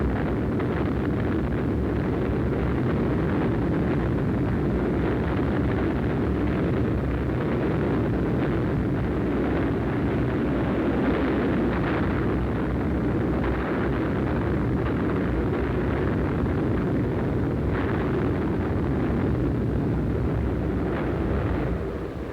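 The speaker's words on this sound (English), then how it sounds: "The bombs go on the target." Continuous heavy rumble and roar from a WWII aerial bombing run in 1944, with bombs bursting on target beneath steady engine and wind noise, loud and unbroken throughout with no distinct separate blasts standing out.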